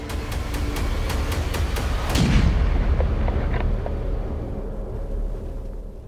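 Rifle shot fired at a Dall's sheep on a Yukon mountain hunt: a single loud, sharp report with a rolling boom that decays over several seconds in open terrain, preceded by faint rhythmic ticking.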